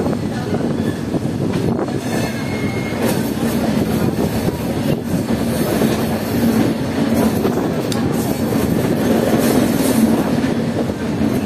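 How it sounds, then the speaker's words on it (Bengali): Maithili Express (15233, Darbhanga-bound) rolling on rails out of the Kolkata station yard toward Patipukur station, a steady close rumble of wheels and carriages with faint clickety-clack and brief wheel squeal throughout. "ধীরে ধীরে আমাদের ট্রেন এখন কাপ নিচ্ছে পাতিপুকুর রেল স্টেশনের দিকে।"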